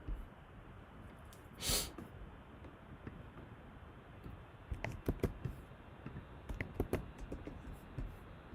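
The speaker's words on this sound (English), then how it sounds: "It's funny seeing yourself sneeze." A woman's sneeze during a live tarot reading, one sharp burst standing out briefly in a quiet indoor room, followed by soft rustling and small handling noises.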